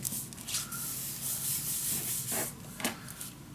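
Paper on a box-style mini album is burnished down with firm back-and-forth rubbing strokes, a close dry scratchy friction sound with a couple of sharper swipes near the end, no talking.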